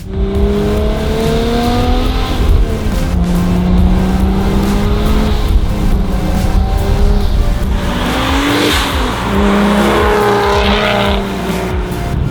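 A BMW 335i fitted with a huge turbo accelerates hard through rising, sweeping engine pulls, with loud, continuous road and intake roar up close and no talk.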